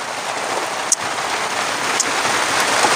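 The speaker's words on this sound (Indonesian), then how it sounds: "Hujan lila. Hujan lama." Steady rain falling during a fishing trip, a dense continuous patter of drops on surfaces with a few sharper individual splashes standing out, close and fairly loud, no voices.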